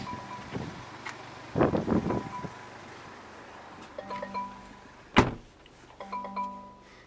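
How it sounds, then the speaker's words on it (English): Motorized whirring as the electric mirrors of a Land Rover 2.0 D180 S diesel SUV fold and unfold, with a couple of sharp clicks and thumps between the buzzing runs, close by. "Electric and folding mirrors"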